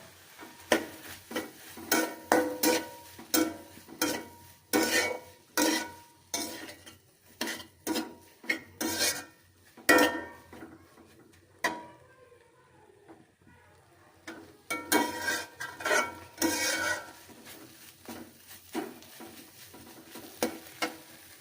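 A spoon scrapes and clatters rhythmically in a pan of noodles, spices and fried egg, close and crisp, in steady strokes with a brief pause midway and a faint sizzle underneath.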